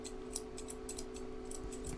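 Scissors trimming the foot hair of an American Cocker Spaniel, a rapid run of crisp, quiet snips over a steady low electrical hum.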